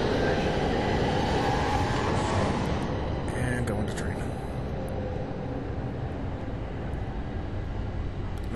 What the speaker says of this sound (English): we're gonna wait for the train